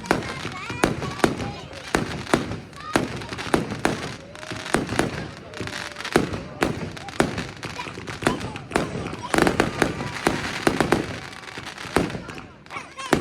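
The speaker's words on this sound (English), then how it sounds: "I love that fireworks now" A large bonfire night fireworks display crackles and bangs continuously, with dense bursts and sharp pops close by, while a crowd talks underneath.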